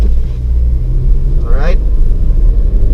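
A 2010 Honda CR-V engine pulls away from a launch, a steady, close, low rumble that continues while a voice talks over it.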